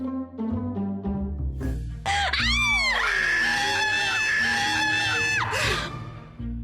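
Several girls scream in fright, high shrill voices rising over a music bed and holding loud for a few seconds before breaking off.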